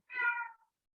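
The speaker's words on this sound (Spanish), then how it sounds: "hay un ruido por ahí. Es un gato de un vecino" A neighbour's cat gives a single short, clear meow of about half a second, heard alone against silence.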